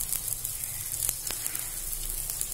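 Ragi adai topped with vadha narayanan greens sizzles in oil on a pan over medium flame, a steady close hiss with a few faint crackles and no talking.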